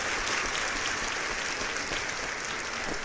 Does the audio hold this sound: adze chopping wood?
no